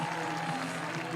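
A college women's soccer crowd at a Boston College versus Duke ACC match roaring after a goal, a dense sustained cheer with a commentator talking over it.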